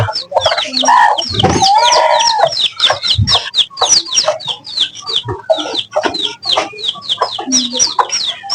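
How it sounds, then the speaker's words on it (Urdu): Chickens cluck busily and a rooster crows loudly nearby, a dense, lively farmyard chorus of clucks and cackles that continues for several seconds. "یہ رہا مرغا"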